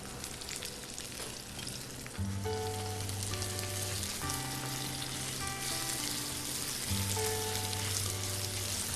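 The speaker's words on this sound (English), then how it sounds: "And into the pan with the zucchini we go." Sliced zucchini and garlic fry in a hot pan, giving a steady, close sizzle and crackle that continues under soft background music throughout.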